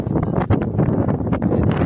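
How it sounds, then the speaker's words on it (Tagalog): Gusty wind buffeting the microphone beside a lake, a rough rumbling roar with short surges throughout, close and loud. "Lamig ng simoy ng hangin."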